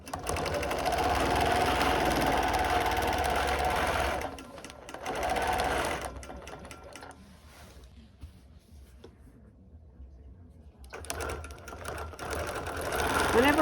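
A sewing machine stitches a quilt pattern in sustained bursts, pausing with the needle down as a ruler is shifted, then starting again; the runs are close and steady with quiet gaps between them.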